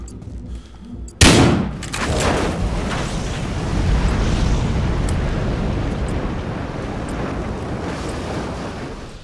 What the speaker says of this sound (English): finding a stove and detonating that stove in the apartment complex. However, you have to find the right stove and it will actually explode much larger